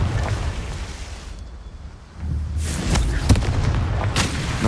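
Confringo fire spell cast in Hogwarts Legacy, a deep booming blast that swells midway and carries a few sharp cracks and rumbling bursts, with no talk over it.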